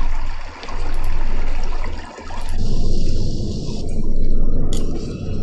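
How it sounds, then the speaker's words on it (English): Loud, close rushing and gurgling water in three swelling surges, like a draining flush, with no voices, an ambient sound effect from an Unreal Engine 4 video game. "That's like water."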